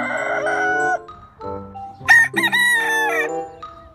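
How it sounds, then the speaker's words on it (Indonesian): A rooster crows loudly and close by, one long drawn-out cock-a-doodle-doo rising over a few softer clucks and farmyard sounds. "Ayam jantan teman-teman."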